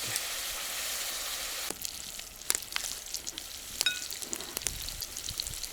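Food sizzling in a frying pan as it browns to a golden crust, a steady crackling hiss with sharp pops and spatters scattered through, close and alone without talk.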